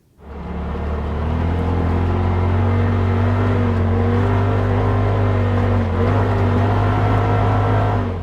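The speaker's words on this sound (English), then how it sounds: "have some fun in the ultimate off-roading desert adventure tool, the Polaris RZR" A Polaris RZR Pro XP 4 off-road vehicle drives through the desert, its engine a loud, steady close droning hum that rises at the start and holds nearly constant, with no voices.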